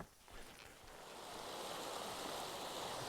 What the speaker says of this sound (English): Crossing over a nice little stream here.